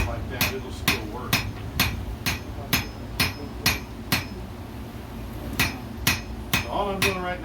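Blacksmith hammering iron flat on an anvil in a colonial-era blacksmith shop: a steady run of sharp, ringing hammer strikes close by, with one brief pause midway.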